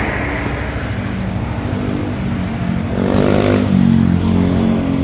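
Motorcycle taxi ride at night, the engine humming steadily up close before revving louder and deeper partway through, then holding a stronger drone; no talk.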